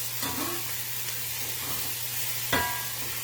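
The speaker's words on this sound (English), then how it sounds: "we put the garlic in, and we're going to just keep stirring these, almost like a stir fry" Mushrooms, shallots and three garlic cloves sautéing in a pan, a steady close sizzle with a faint underlying hum and a couple of brief scrapes from stirring, no talking.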